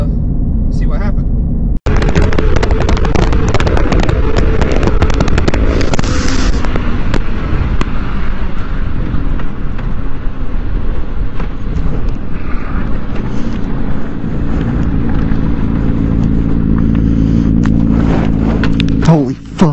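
A Yamaha R6 motorcycle roars at about 130 mph under heavy wind buffeting, with a sharp impact early on and a sustained loud rushing blur of engine and wind noise through the crash, ending abruptly.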